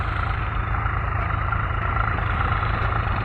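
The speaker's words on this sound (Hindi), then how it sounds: "दूसरा ट्रैक्टर आ रहा है उधर से, और उधर से वो दूसरा ट्रैक्टर भी आ रहा है।" A Swaraj tractor engine drones on a rural road, a steady, loud low diesel rumble with no clear rise or fall, unbroken by voices.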